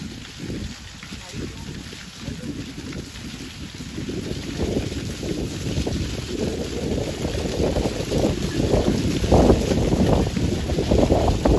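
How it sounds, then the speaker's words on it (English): Wind on a breezy day in a city with skyscrapers, a steady low rumbling buffet that grows slightly stronger over time, heavy and close like gusts across a microphone. "Breezy day today."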